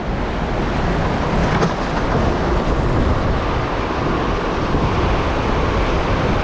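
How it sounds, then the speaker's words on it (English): Strong gusts roar steadily during a big windstorm outside a shop, a loud, continuous broadband rush with no pauses and no talking. "This is the kind of wind that's going to tear stuff up."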